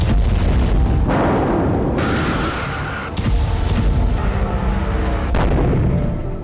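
A loud, continuous rumbling blast with heavy low-end roar and sudden bursts, like a large explosion or artillery barrage, sustained throughout.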